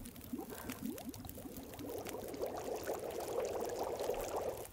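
Water from melted snow boiling in the video game The Long Dark, a soft bubbling, frothy liquid sound that builds and thickens over a few seconds, alone and fairly quiet.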